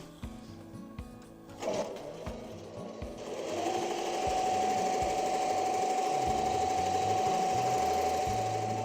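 Embroidery machine stitching a patch on felt, starting with a few clicks and thumps, then settling into a continuous rapid rhythmic needle whir with a steady high tone, close and moderately loud.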